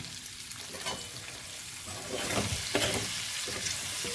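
Vegetable masala sautéing in oil in a pan, a continuous sizzle with stirring scrapes that grows louder and denser about halfway through, no talking over it.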